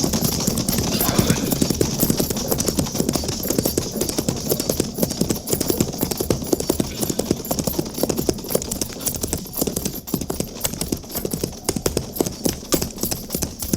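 A lone rider's horse approaches at a steady clip-clop, hooves drumming loud and close in a fast continuous rhythm throughout this 1956 western radio drama, Fort Laramie.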